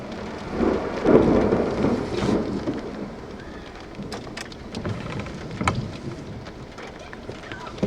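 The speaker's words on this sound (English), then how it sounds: "I'm getting rained on." Steady rain pours down during a thunderstorm, with a low rumble of thunder building early and scattered sharp drops and patters on nearby surfaces throughout.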